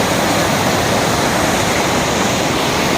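Powerful torrent of clear water rushing and crashing continuously at a steady, loud roar, close by with no voices over it.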